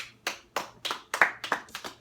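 Podcast hosts clap together in a loose rhythm, about eight distinct sharp claps spaced roughly a third of a second apart, close and fairly quiet, with no talking.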